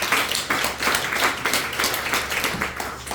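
Applause from a church congregation at a Sunday service, steady clapping throughout after the pastor's call to honor a missionary couple.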